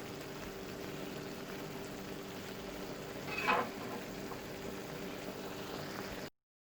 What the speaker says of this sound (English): I'm going to let this simmer for a few minutes. Let it brown up. Let my onions cook down a little bit.